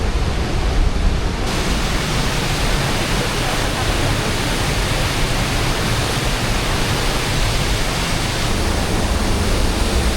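Water pouring over Lake Logan Dam, a concrete dam anchored into rock: a loud, continuous broadband roar, steady and unbroken for the whole stretch, filling the foreground.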